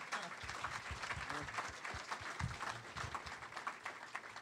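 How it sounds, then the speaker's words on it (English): An audience gives steady, fairly distant applause as Jim Daly of Focus on the Family comes up to speak, a soft continuous patter of many hands clapping with a faint voice mixed in. "Give him a good round of applause."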